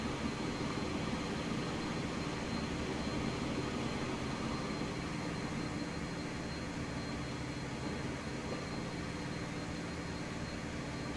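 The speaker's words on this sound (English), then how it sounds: "plane landing, looks like a BAE 146, the small one" A small BAE 146 airliner lands in the Transport Fever 2 game: a steady, broadband engine roar and rushing hiss hold at an even level throughout, with no voices over it.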